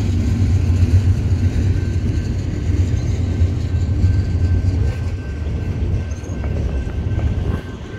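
A BNSF freight train with mid-train DPU locomotives rumbles past close by and slows toward a stop, a low steady mechanical drone with faint wheel and car noise fading near the end.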